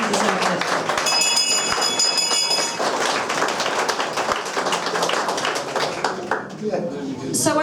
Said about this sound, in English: So can everyone give him a round of applause, because he deserves it.